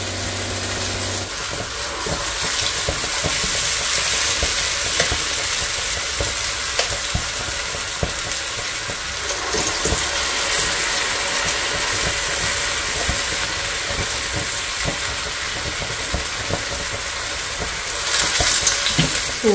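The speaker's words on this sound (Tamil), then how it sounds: "எண்ணெய் சூடாயிடுச்சு, வடை போட்டுடலாம்." Vada batter fries in a pan of hot oil with a loud, continuous close-up sizzle and crackle, dotted with sharp pops and occasional utensil taps, the hiss swelling again near the end.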